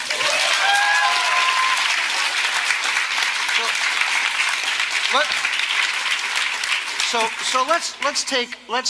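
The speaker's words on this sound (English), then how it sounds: "Can we give them a round of applause for that?" A lecture audience claps in a sustained, dense burst of applause, with a few whoops and cheering voices rising near the end.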